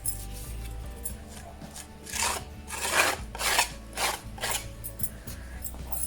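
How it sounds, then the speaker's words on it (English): Acrylic texture paste scraped over a stencil, a series of rasping strokes that swell and fade, louder in the middle, close up with no talking. "You can even scrape it down a little bit,"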